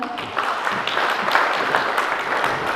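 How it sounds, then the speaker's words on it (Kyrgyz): Audience applause at a school graduation ceremony, steady dense clapping from many hands filling the hall at moderate loudness, continuous with no talk. "Кол чабуулар."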